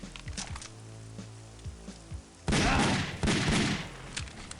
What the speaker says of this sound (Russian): Очень классно, кстати, стреляет пистолет.